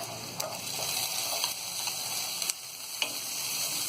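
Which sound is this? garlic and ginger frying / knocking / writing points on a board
garlic and ginger frying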